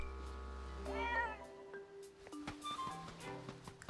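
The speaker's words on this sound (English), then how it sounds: "It's a calico cat." A calico cat in The Legend of Zelda: Echoes of Wisdom gives one clear, rising meow near the start, followed by soft game chimes and light rustling tones.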